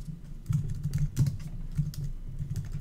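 Typing on a Mac keyboard to enter a note, a steady run of soft, close key clicks with an uneven rhythm, heard alone.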